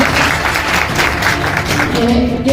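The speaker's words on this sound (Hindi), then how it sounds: "आप सभी से चाहेंगे जोरदार तालियां बजे।" Applause from an audience at an honouring ceremony, steady dense clapping filling the clip at close range, with a faint voice or tone emerging near the end.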